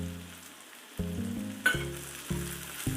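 Boiled chicken pieces fry in a pan for chilli chicken, a steady sizzle punctuated by stirring knocks and clinks, close and moderately loud, with no voices.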